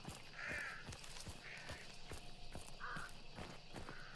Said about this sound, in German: Oh, Raben, Raben.